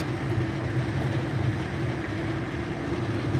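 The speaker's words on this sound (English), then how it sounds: "But now this train's starting to run smooth." A train running smoothly on its tracks during a ride, heard from inside as a steady, continuous rumbling drone with a constant low hum and no distinct clatter, loud and unbroken throughout.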